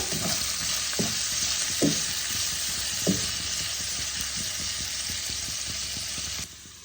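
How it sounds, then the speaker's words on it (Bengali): Onions frying in a pan for Bengali-style kala chana ghugni, a steady loud sizzle with a few sharp stirring scrapes early on, close and unbroken until it cuts off near the end. "পেঁয়াজটাকে আমি হালকা লাল করে ভেজে নেব।"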